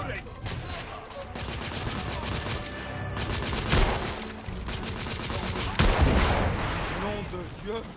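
Rapid gunfire in a PS4 shooter, dense bursts of shots and heavy booming impacts over a loud continuous battle din, with voices shouting underneath.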